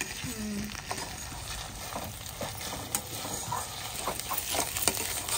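Ginger pieces stirred and fried in a deep pan for a chicken dish: a steady sizzle with scraping stir strokes and light clinks, close and moderately loud, with no talk.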